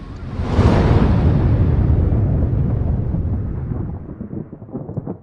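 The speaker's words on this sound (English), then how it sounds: "where my explosion at?" A loud explosion sound effect bursts in with a sharp onset, then rumbles as a broad roar that slowly decays and fades over several seconds, heard alone.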